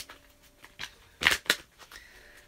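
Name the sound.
shuffling tarot cards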